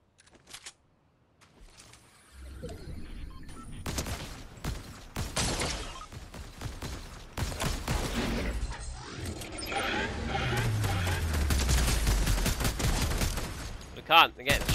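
Fortnite gunfire in a trio match, rapid shots and bursts that build in loudness from quiet beginnings into heavy, sustained shooting, with players talking over it.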